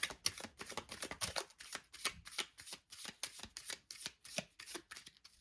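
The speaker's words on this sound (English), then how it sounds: "shuffle one last time and divide the deck." Tarot cards are shuffled in quick, repeated riffles, a rapid series of crisp flutters and snaps, close and quiet.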